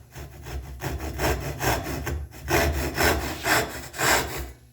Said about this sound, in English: Grab my crosscut saw. And again, I'm going to be on the waist side of the line.